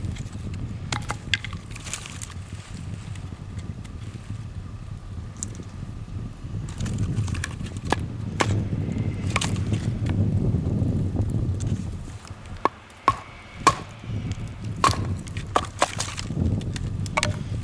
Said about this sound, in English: batoning is fairly easy with this, just because of the fact that it's wide